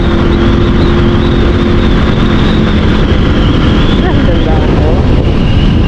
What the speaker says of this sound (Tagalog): lakas kasi ng hangin eh